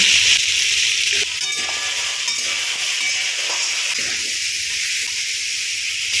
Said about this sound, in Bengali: ছোটো ছোটো করে কেটে রাখা আলুগুলো দিয়ে দিলাম